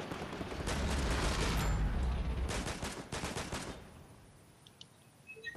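Gunfire in Fortnite, with dense overlapping bursts of shots in the first few seconds and then scattered fainter cracks as the shooting dies down.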